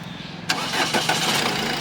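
After a moment of quiet running, a 2016 Ford EcoSport Titanium+ engine restarts with a quick crank and catches straight into a steady idle, close and clear.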